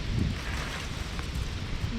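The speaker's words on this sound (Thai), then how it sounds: "ลมอย่าเพิ่งมาลม" Strong gusty wind buffets the microphone outdoors on a farm during a fishing outing, a steady low roar and rumble running unbroken throughout with no other sound clearly standing out.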